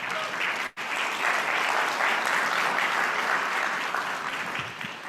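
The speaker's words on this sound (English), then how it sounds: "I will give him a youthful round of applause," A live audience at an Advancing Africa event with Bill Gates applauds steadily: dense, even clapping from many hands fills the room throughout, with one brief dropout near the start.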